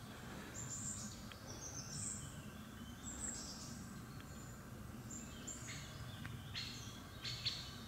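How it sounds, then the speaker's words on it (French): Birds sing and chirp outdoors during the monsoon, with scattered high calls coming and going at a distance over a steady low background hum. "C'est plein d'oiseaux."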